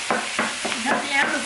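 Ground meat frying in a home kitchen pan, a steady broadband sizzle broken by repeated scraping and stirring strokes as it is broken up, close and fairly loud with no voices.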